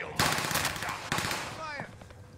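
Machine-gun fire in Call of Duty crackles in two close, loud bursts with a short gap between them, while a voice is heard faintly underneath.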